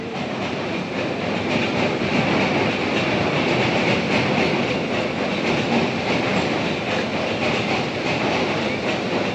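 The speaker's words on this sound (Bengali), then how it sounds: "একটা কিন্তু শিয়ালদার দিকে যাচ্ছে একটা ট্রেন ট্র্যাকের সাউন্ডটা শোনো" A train runs along the tracks toward Sealdah, heard from a nearby bridge as a loud, continuous rumbling roar with a faint clatter of wheels that holds steady throughout.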